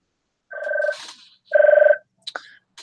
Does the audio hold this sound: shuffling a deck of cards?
no